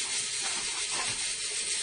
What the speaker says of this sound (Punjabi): ਹੁਣ ਮਸਾਲੇ ਨੂੰ ਘੁਮਾਲੋ,